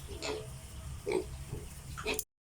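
Piglets on a pig farm grunting in a few short, close bursts over a steady background hum, then the sound cuts off abruptly.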